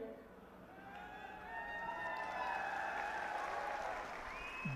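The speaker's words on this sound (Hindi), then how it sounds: "अभी आपने ताली बजा दी क्योंकि आप समझ गए।" A large crowd applauds at a Congress election rally in Haryana's Ahirwal region, a dense, steady wash of clapping with raised voices that swells slightly and holds for the whole stretch.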